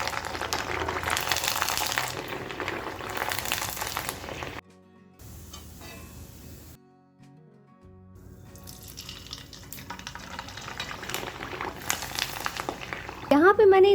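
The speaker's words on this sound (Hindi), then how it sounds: "अब एक एक करके हम सूजी की कुरवाड़ी फ्राई करेंगे।" Semolina kurwadi fry in hot oil, a soft continuous sizzle and crackle that drops out midway, then returns and builds, with a brief squeaky sound at the very end.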